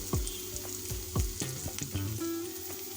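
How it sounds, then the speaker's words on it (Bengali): Shrimp and dried chillies fry in a pan. A steady, close sizzle runs throughout, with repeated scraping stirs on top and no talk. "চিংড়ি মাছগুলো যোগ করেছি, এটাকে এখন মিনিট 3 ধরে নাড়াচাড়া করে নেব"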